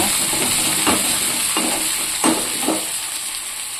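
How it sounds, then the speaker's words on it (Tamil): Curry leaves and onion fry in hot oil with a steady close sizzle, broken by a few stirring scrapes at intervals. "கருவேப்பிலை நல்லா தாராளமாக போடுங்க."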